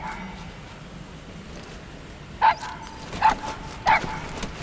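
A dog gives three short yips or barks in the latter half, each brief and fairly close, over a steady low background hum with no talking.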